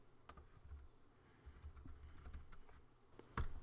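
Faint keyboard typing as login credentials are entered on a computer, with a light, irregular scatter of key clicks and one sharper tap near the end, with no voices.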